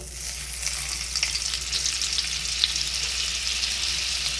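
A cube of butter melts into a little hot oil in a pan over a low gas flame, giving a steady, close, even sizzle and fizz that stays level throughout with no voices.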